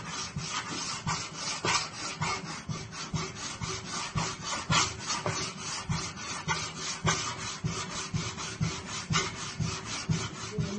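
Metal file working the blade of a handmade sword, close rhythmic rasping strokes repeating steadily at about two per second, each a gritty scrape, with no voices.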